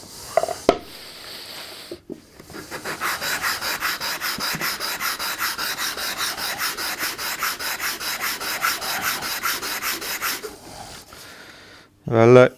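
Steady rhythmic hand sanding of a small wooden box, a dense scratchy rasp running for about eight seconds at close range, preceded and followed by brief handling knocks and faint background sounds.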